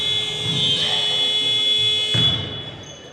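A buzzer sounds during a women's basketball league game, a steady electronic tone holding for about two seconds and then cutting off, with a faint thump and arena noise underneath.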